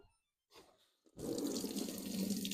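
A home washing machine starts filling with water: after a couple of soft clicks and a brief pause, a steady, loud gush of inflowing water rushes in and continues without letup.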